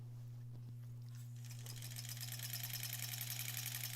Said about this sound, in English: So I'm going to just sew right over that, and then we'll do our little back tack.